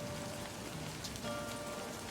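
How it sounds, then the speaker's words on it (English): Steady rain in the video game Livber: Smoke and Mirrors, a dense, even patter of drops on surfaces filling the whole stretch with constant loudness, with faint tonal game hums underneath and no talk. "You shouldn't stay out in the rain any longer"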